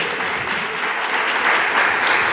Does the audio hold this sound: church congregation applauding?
yes